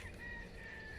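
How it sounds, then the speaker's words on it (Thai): A bird calls in rural Spain, a faint sustained high-pitched note carried over a low background rumble, brief and distant. "เสียงนกค่ะ"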